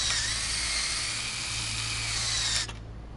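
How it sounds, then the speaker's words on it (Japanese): An electric drill in the video game RoboCop: Rogue City whines at a loud, steady high pitch for under three seconds, then cuts off abruptly. "電気ドリルだ。"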